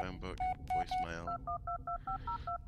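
A phone in the Blair Witch video game plays a quick run of dialing tones, short evenly spaced beeps at a brisk rhythm, with someone talking over the first part.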